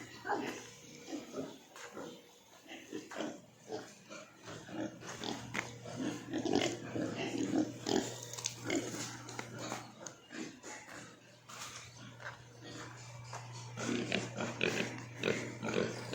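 Pigs on a farm where water is scarce and drilling has stopped, grunting and snorting up close in a continuous, irregular chorus, with a steady low hum underneath.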